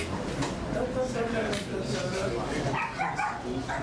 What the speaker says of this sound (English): Even the dog's barking.